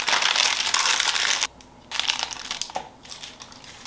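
Parchment paper being folded for croissant dough, with close crinkly rustling in bursts, a short pause, then more crackling handling.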